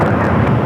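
Steady broadband roar of an airplane flying in at Phoenix Sky Harbor airport, a loud continuous rumble with no breaks and no talk.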